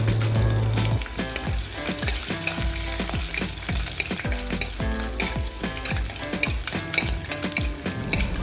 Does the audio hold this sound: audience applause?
no